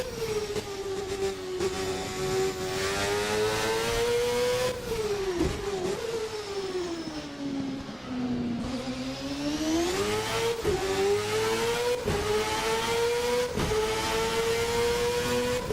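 A 1999 Formula North America race car in a driving game howls continuously at high revs, its engine note dipping through quick gear changes and lift-offs before climbing again, loud and unbroken.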